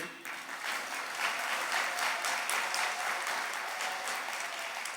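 A church congregation claps with raised hands, dense continuous applause from a large crowd at a steady level, heard alone.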